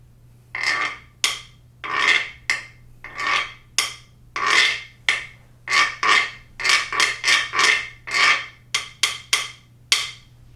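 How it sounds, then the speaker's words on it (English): A guiro scraped in a quick, lively rhythm, with close, bright rasping strokes that alternate between long pulls and short flicks, about twenty in all. It plays alone over a faint steady hum. "In the music room, you'll see an instrument that makes that similar sound, and this is called a Guido."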